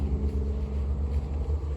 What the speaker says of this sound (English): Do you hear the truck?